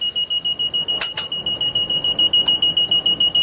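A rapid, high-pitched electronic alert alarm in a train cab, triggered by Positive Train Control as the train stays above the allowed speed, pulses continuously in a steady rhythm over a low rumbling background.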